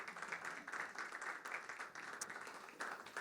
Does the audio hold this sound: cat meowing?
no